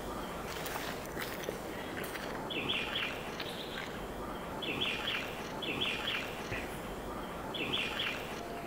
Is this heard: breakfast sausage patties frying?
no